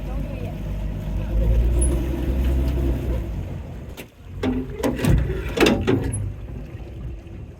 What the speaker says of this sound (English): We use a motor to raise the weights.